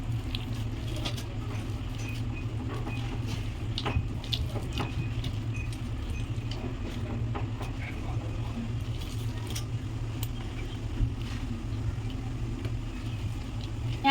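Water is worked a little at a time into ripe palm fruit pulp to squeeze out the juice, giving a steady, close, wet squelching patter with scattered soft clicks throughout.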